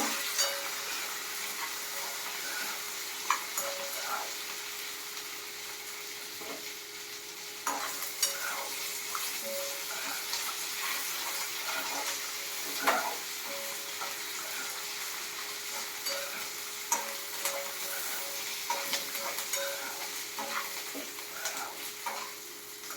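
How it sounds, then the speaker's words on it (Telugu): Mango pulihora rice frying with curry leaves in a pan, a continuous soft sizzle with occasional light clinks and stirs, moderately quiet and steady. "మనకి పులిహోర మంచిగా ఫ్రై అవ్వాలి"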